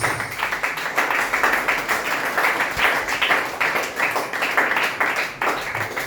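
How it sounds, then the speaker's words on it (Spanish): A church congregation applauding during a sermon, dense continuous clapping from many hands at close range, sustained steadily and heard alone without talk. "Dale la aplauso al Señor"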